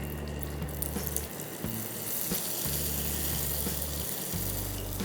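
Unniyappam batter going into hot oil in a paniyaram pan, with a continuous hiss and sizzle over a steady low hum, broken by soft clicks and a few uneven low pulses.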